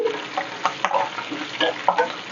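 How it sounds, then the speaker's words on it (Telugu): Tempering spices and curry leaves sizzle and crackle in hot oil, with a spoon stirring now and then, close by and steady. "ఇప్పుడు ఇది దోరగా మనకి తాలింపు వేగాలి"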